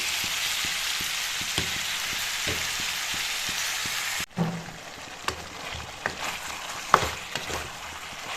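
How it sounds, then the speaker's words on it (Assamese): Chicken meat frying in a pan gives a steady hiss that breaks off midway, then comes back quieter with scattered scrapes and clacks as the pieces are stirred. "মাংসখিনি ইফালৰ পৰা ভালদৰে লৰাই দিলে"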